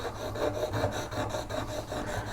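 Hand sharpening of a steel V-parting woodcarving tool to raise a burr, giving repeated rasping strokes in an even back-and-forth rhythm, close up and moderately loud, with no voices.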